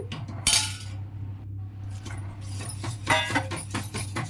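A spoon stirs ragi flour porridge in a pot, scraping and clinking against the metal in irregular close strokes, with a steady low hum from a stove or appliance underneath.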